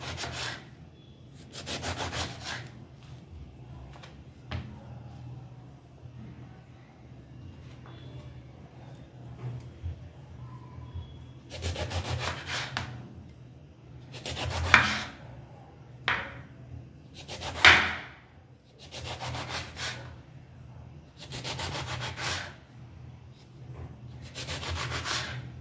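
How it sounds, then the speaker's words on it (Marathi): A knife cuts an eggplant into medium-thick slices, with about a dozen rasping strokes at a close, steady pace. Each stroke comes every second or two against a quiet background. "तर आपले वांग्याचे काप लगभग कापून झाले आहे"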